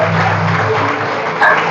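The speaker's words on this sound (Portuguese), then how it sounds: "Dê um aplauso a ele." A church congregation applauds, a brief burst of clapping heard at the end of a sermon, mixed with a voice and a faint sustained tone underneath.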